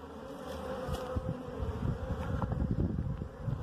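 Bees buzzing around a wild honey nest outdoors, a close continuous droning hum with shifting loudness over rustling background noise.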